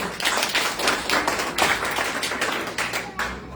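Church congregation clapping during a Sunday worship service, a dense run of hand claps at moderate level, steady for several seconds and thinning near the end.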